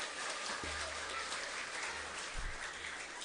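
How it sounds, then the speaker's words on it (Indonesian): Broad, steady clapping from a church congregation gathered for a Pentecost Sunday service, filling the room for a few seconds with a couple of low thumps and no voices standing out. "Mari kita tepuk tangan dulu semuanya yang ada di gereja ini."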